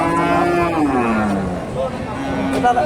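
A Friesian dairy cow at a cattle market lets out a long, loud, near moo with a falling pitch, followed by softer lowing and background market noise.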